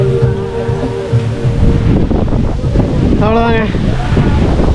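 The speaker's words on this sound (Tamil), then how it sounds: "சும்மா காற்று விசு விசு விசு விசுன்னு அடிக்குது." Strong night wind on a small island buffets the microphone in loud rumbling gusts, with someone speaking briefly over it and a short tonal whine partway through.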